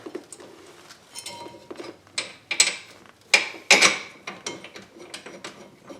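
A bolt being threaded into the rear brake of a 2005 Buick Rendezvous, heard as close, irregular metallic clicks, ratcheting taps and scrapes in uneven bursts, with no talk.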